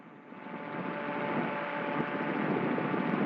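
A tandem TAG gyroplane's engine drones steadily and loudly through a takeoff run in the Warrumbungles region of New South Wales, building slightly in strength as it goes, with no talk over it.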